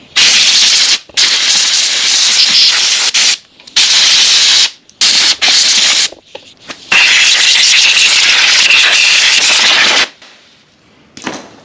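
Compressed air hisses loudly and close as debris is blown off the engine of a rare Kawasaki mini bike, in several long harsh blasts separated by brief pauses, with no talking.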